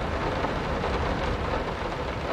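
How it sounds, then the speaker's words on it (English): Loud, steady rain from the video game Layers of Fear, a dense continuous downpour with thunder-like rumble filling the whole stretch, no voices over it. "the rain is becoming really, really loud"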